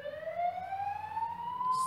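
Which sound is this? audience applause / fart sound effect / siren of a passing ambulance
siren of a passing ambulance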